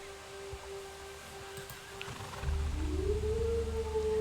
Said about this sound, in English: there's a wolf howl